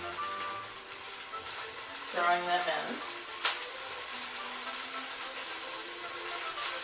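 Halved small, slightly wrinkly tomatoes frying in a pan for an Italian egg dish give a low, steady sizzle, briefly interrupted by a short tonal squeak and a single sharp knock.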